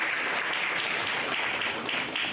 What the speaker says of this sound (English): we all please clap for Dr.